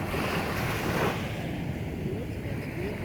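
Sea waves roll steadily onto the beach at Flic en Flac, Mauritius, a loud continuous wash of surf blended with gusty wind buffeting the microphone.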